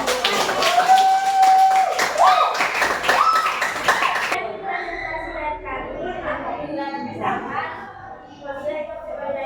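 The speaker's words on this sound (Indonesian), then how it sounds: "Tepuk tangan untuk kelompok 3 yang sudah mempresentasikan hasil diskusi." A classroom of students claps for a group's presentation, a burst of applause that gives way to children's voices and chatter in the room.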